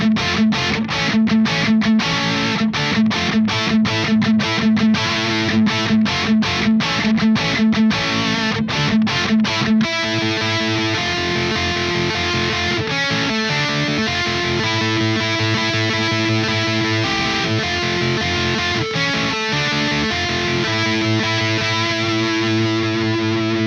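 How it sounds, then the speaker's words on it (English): Electric guitar played through the overdrive channel of a 5150 EL34 amp, producing crunchy distorted tones: choppy rhythmic chords at first, then sustained ringing chords, loud and close. "let's go ahead and engage the overdrive on channel 1 and let's check them out here."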